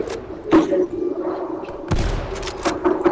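Gunfire in Call of Duty Black Ops Cold War zombies mode, shooting at an armored zombie. A few heavy thudding shots come in separate bursts, loud and close, over a low game background.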